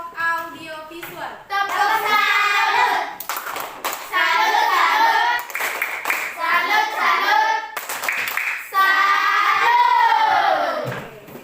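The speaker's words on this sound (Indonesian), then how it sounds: "Sekarang beri tepuk salut untuk kelompok audio visual." Children in a classroom clap together in an uneven burst of applause, with loud young voices calling and cheering throughout and over the clapping.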